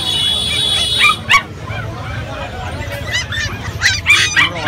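Dogs and puppies yip, bark and whimper at the Galiff Street pet dog market in Kolkata, with repeated high, sharp barks close by over a busy outdoor background and people talking.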